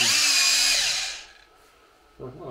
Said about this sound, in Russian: это тут сам перфоратор